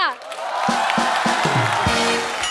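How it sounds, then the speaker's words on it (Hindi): Studio audience on a Hindi comedy talk show breaks into loud, sustained applause and cheering, a dense crowd roar that holds steady throughout with a few whoops rising above it. "जोरदार ताली से स्वागत कीजिए Varun Dhawan and John Abraham का।"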